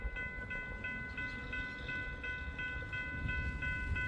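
Norfolk Southern locomotive 6963 hauls a train past, its horn sounding in steady repeated tones over the rumble and rattle of the rolling cars, fairly distant and alone without talk.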